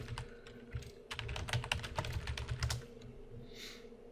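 Computer keyboard typing, fast clusters of close, crisp key clicks in irregular bursts with short pauses, ending in a brief soft rustle, no talking over it.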